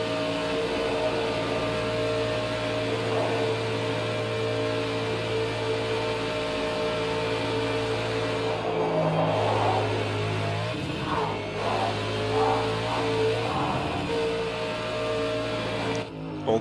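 A Ford Mustang RTR drifting in the racing game Project Cars 2 holds a steady, sustained engine drone with wavering revs and tyre noise, fairly loud and continuous throughout, briefly dipping near the end, with no talking.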